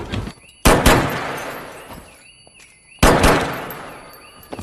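Two loud gunshots fired in a film, each a sharp, close blast followed by a long decaying echo, spaced a little over two seconds apart.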